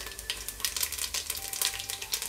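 Whole spices sizzle in hot oil and ghee: cinnamon, cloves, cardamom, fennel, bay leaf and cumin. The crackle is close and fairly quiet, with rapid irregular popping bursts throughout and no voices.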